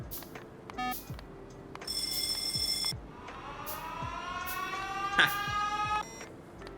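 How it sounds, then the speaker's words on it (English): Alarm sounding in the video game Factorio with the pYanodon's mod: a sequence of electronic tones, buzzing bursts and rising sweeping whoops that repeat over several seconds, loud and up front. "then we have an alarm that goes off"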